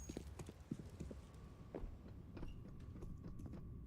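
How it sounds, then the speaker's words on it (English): Heavy in-game footsteps of a Counter-Strike player stomping loudly during a NAVI vs Heroic ESL Pro League match, a run of thudding, uneven steps close by over a constant low game hum, with no talk. "Boomich is stomping like a rhinoceros"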